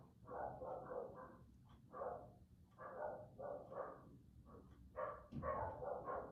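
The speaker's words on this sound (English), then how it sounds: "did you hear the dogs?" Dogs bark upstairs in a house, a muffled run of quick repeated barks in bursts, faint and heard through the ceiling.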